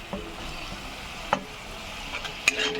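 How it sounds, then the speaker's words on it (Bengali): Chopped tomatoes frying with spices in a pan for a pangas fish curry give a faint, steady sizzle, broken by a few light utensil clicks. "টমেটোটা একটু ভাজা হবে মশলার সঙ্গে, তাহলে কাঁচা গন্ধটা যাবে।"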